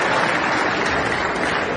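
A snooker crowd applauds a 6-0 whitewash semifinal win, with dense, even clapping filling the hall continuously from start to finish.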